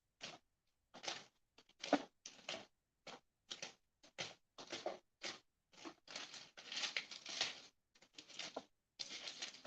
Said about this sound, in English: So now I'm gonna be looking for some kitchen scissors.